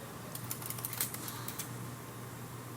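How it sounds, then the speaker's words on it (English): Old IBM Model M keyboard typing at a quiet distance, light irregular key clicks clustering in a brief burst over a steady low hum, with no voices. "listen to an old Model M keyboard rattle away"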